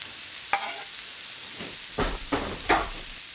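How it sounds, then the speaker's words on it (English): Sliced onions fry with bacon in a pan, giving a soft steady sizzle broken by several scraping stirs that come in irregular bursts, close and fairly quiet. "I'm going to put this in the bacon and let it cook as the bacon cooks"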